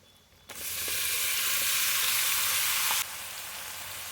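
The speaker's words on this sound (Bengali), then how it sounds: "পেঁয়াজগুলো ভাজা হয়ে গেছে দিলাম তেজপাতা তারপরে চিকেনটা আমি দিয়ে দেবো" Onions and a bay leaf fry in a hot pan, producing a loud, steady, bright sizzle that starts abruptly, holds evenly for a few seconds, then settles to a softer hiss.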